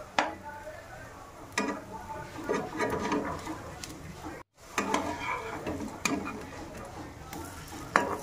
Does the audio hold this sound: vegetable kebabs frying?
yes